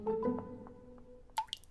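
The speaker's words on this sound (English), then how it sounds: "Have you fixed a dripping tap before" Dripping tap in a cartoon setting: a few separate, fairly close water drips with soft resonant plinks spaced irregularly, ending in a brighter splashy drip, alone without talking.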